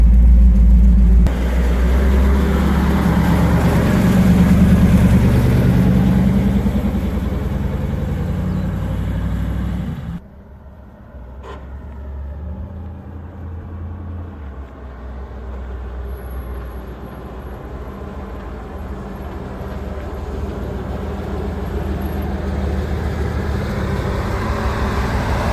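A 1957 Chevy Bel Air running on AMSOIL lubricants rolls along with a steady, loud low rumble from inside the car, a heavy engine and road drone that briefly drops off before settling into a smooth, continuous hum.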